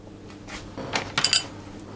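A stuffed meatloaf roll in a pan going into the oven: a brief cluster of close metallic clanks and clatters from cookware and oven racks, with no talking.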